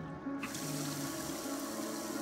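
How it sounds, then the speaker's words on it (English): A water fountain in the game Prey, letting out a steady, close rush of running water that starts abruptly and continues without a break. "Can I drink from water fountain?"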